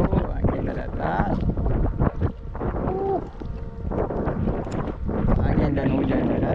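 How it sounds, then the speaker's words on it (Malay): Wind and rain sweep over the open sea around a kayak out fishing off Malaysia, a loud, constant rushing gust noise buffeting the microphone with splashes and rustling throughout. "Angin dan hujan dah datang guys."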